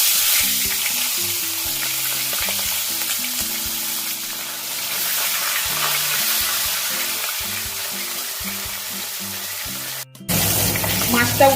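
Bhangar fish frying in hot oil gives a loud, steady, crackling sizzle that runs continuously over soft background music, cut by a brief drop near the end before the frying noise resumes.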